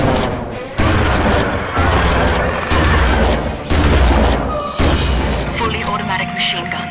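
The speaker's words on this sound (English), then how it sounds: "Fully automatic machine gun. Just hold the trigger and mow down anything in your way." A fully automatic machine gun in the dinosaur shooter Dino Strike fires in several loud, sustained bursts of about a second each, blending into a heavy, booming roar with brief pauses between them.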